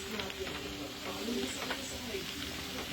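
Homemade dishwashing liquid stirred while thickener is slowly poured in, a soft continuous swishing and faint bubbling hiss, close and steady for a few seconds.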